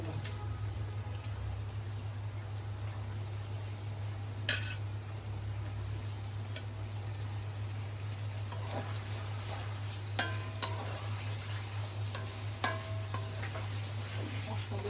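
Pangas fish frying in a pan with cumin, a soft steady sizzle with occasional sharp clicks of a utensil stirring, fairly quiet and near, over a low background hum.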